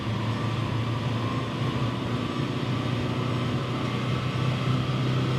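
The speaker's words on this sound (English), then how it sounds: "that's a dyno run over, so we'll just let the vehicle coast down now." A 2020 VW T6.1 2.0 TDI-CR 110 bhp van coasts down on a rolling-road dyno after a power run, a steady droning whir of rollers and drivetrain with a low hum, continuous and even throughout.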